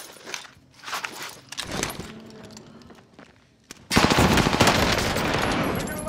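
Gunfire rattles in a Call of Duty: Modern Warfare match. Scattered shots and shuffling sounds come first, then a sustained, loud burst of automatic fire fills the last couple of seconds.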